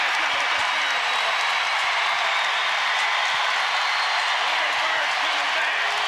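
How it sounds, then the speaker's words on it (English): A basketball arena crowd at a women's college game in Charlottesville cheers and applauds loudly and continuously, a dense roar of clapping and voices with no pause. "You hear the crowd?"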